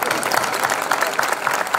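Applause at a folklore night in Villarrubia, many people clapping in a steady, dense wash for just under two seconds.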